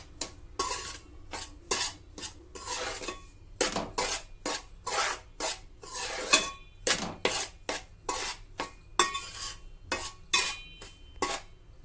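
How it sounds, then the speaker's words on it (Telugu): Balamrutham laddu ingredients slow-roasting in a pan on low heat, stirred with a utensil in repeated scraping strokes against the metal, close and moderately loud with brief pauses between passes and no talking. "ఇది పచ్చివాసన పోయేంత వరకు సిమ్లో పెట్టుకొని మెల్లగా వేయించుకోవాలండి"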